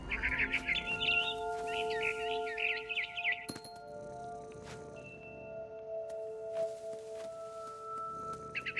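Barn swallow chirping outside a window in What Remains of Edith Finch: quick bursts of high twittering calls in the first few seconds, then quieter scattered chirps over a steady ambient bed.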